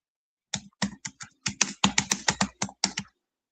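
Quick typing on a computer keyboard: about a dozen crisp, close key strikes in an uneven burst lasting roughly two and a half seconds, with no other sound.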